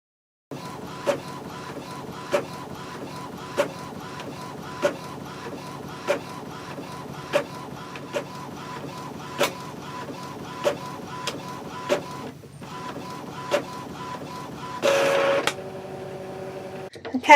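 A printer prints a sticker sheet on plain A4 paper. A faint mechanical hum carries regular ticking clicks about once a second, then a brief pause, a louder whirring burst and paper feeding at the end. There is no clear talking.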